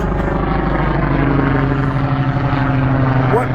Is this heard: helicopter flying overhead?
yes